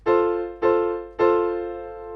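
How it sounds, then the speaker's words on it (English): Three grand piano chords struck in turn, each ringing dry and fading quickly with no room echo, a clear close instrument tone without reverb. "So I'm going to pick this first grand piano"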